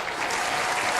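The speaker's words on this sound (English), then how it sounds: "So give yourselves a round of applause." Canned applause sound effect played during a livestream, a dense steady burst of many hands clapping at full volume for about a second, with no voices over it.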